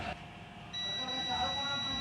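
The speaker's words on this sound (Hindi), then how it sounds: "बीप मेरा दे रहा है इस पे रखने के बाद" A multimeter in continuity mode beeps as its probes rest on a resistor on the motherboard of an HP 14-DQ laptop being repaired for a no-power fault. It is a steady, thin tone that starts partway through and holds to the end, under faint background noise.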